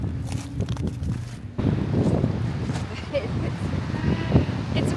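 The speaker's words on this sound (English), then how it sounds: "It's windy out here" Wind blusters outdoors on a rocky Bay of Fundy shoreline, a steady loud roar buffeting the microphone with gusts throughout.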